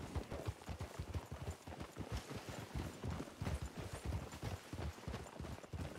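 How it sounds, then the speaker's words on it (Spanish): Horse hooves clip-clop steadily at a brisk pace through a foggy wilderness in Red Dead Redemption 2 roleplay, close and continuous with a dense rhythmic patter and no talk over it. "Un señor a caballo."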